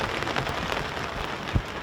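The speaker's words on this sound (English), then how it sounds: "still the rain comes down" Steady rain pours down across an outdoor rugby league ground, a dense, even hiss of falling drops with one brief low thud, heard alone without talk.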